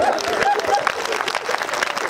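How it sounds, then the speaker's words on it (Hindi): An audience at a talk applauds in a steady patter of clapping, with voices and crowd noise mixed in throughout. "आप लोग तालियां बजाते जाइए"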